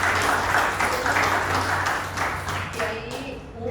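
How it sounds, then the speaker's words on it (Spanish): Church congregation applauding after a sermon point, moderate clapping spread through the hall with a low hum underneath, tapering off toward the end. "Denle un aplauso al Señor."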